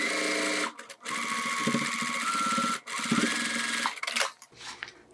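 Sewing machine stitching the side seam of a zipper wallet, loud close whirring runs with a brief stop in between, then a short final stretch that ends the stitching, no talking.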